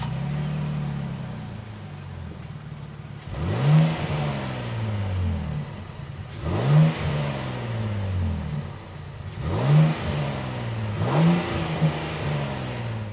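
A 2025 Nissan Armada's 3.5-liter twin-turbo V6 idles with a steady low rumble, rising three or four times into short revving bursts that swell and fall back, heard close with no talking.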